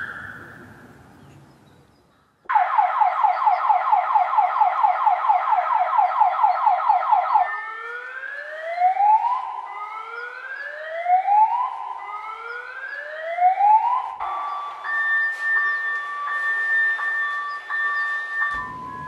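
A sequence of electronic alarm sounds: a rapid pulsing warble, then repeated rising whoops, then steady alternating two-tone beeps, loud and close with no talking.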